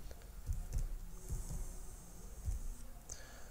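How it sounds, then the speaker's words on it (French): Quiet, close computer keyboard typing as an IP address is entered, a few irregular bursts of soft key clicks against a faint hum. "Ici, on va taper l'adresse locale"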